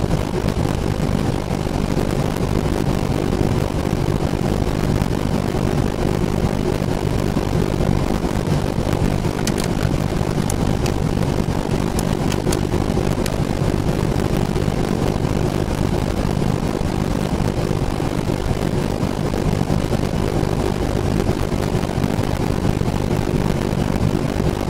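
Airliner taking off from Lijiang airport, heard from inside as a loud, continuous, broadband engine roar that holds steady throughout without letting up.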